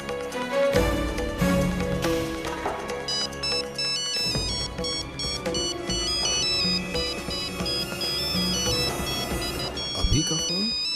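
A melodic electronic ringtone plays steadily and loudly, its tinkling notes repeating over a dense musical background.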